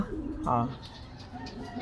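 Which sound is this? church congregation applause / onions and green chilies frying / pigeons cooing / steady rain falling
pigeons cooing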